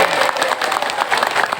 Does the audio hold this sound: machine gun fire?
no